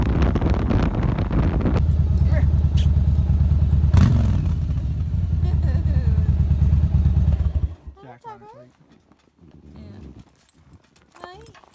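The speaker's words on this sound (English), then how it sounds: "gonna go for a ride on a motorcycle now" A motorcycle engine roars loud and close with wind rush for most of the ride, then drops away to quieter scattered sounds.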